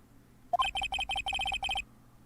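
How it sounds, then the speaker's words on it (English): A phone ringtone from Phoenix Wright: Ace Attorney plays as a bright electronic melody of repeated short chirping notes in quick bursts, loud and clear, then stops, with no talk over it. "I had a phone ring just now."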